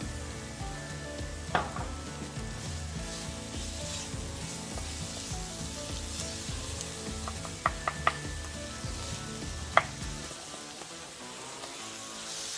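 Garlic frying in oil in a pan on the stovetop, cooked alongside kimchi: a steady close sizzle with a few sharp utensil clicks and taps scraping the pan, and no voices.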